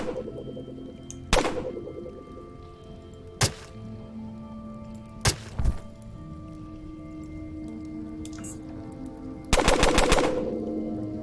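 Gunfire in the video game UnderRail: Expedition, with sharp single shots and a closing rapid burst of automatic fire over a steady, low game ambience.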